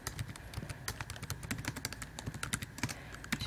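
Fast, uneven clatter of keys on a computer keyboard while a tweet is typed, close and steady throughout with no talking.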